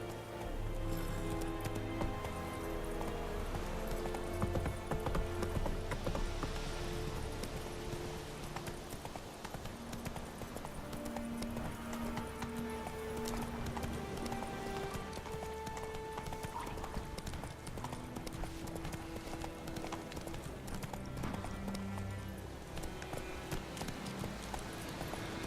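Geralt's horse Roach trots along in The Witcher 3, hooves clip-clopping in a steady rhythm under game music, fairly quiet and continuous.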